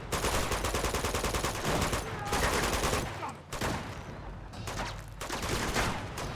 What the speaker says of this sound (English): Now they're using the rocket launchers.